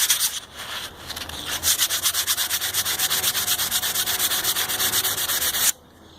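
Hand sanding of a wooden bow with 100 grit sandpaper, a loud, close, steady back-and-forth scratching in rapid even strokes that stops abruptly near the end.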